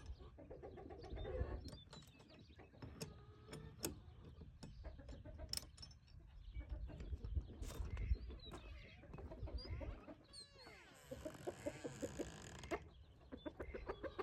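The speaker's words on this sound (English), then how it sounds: "Reuben is one of my roosters" A rooster named Reuben, taken out of the coop pen on a morning, clucks and calls in short bursts close by. Other bird sounds and a soft jangle of keys mix in throughout.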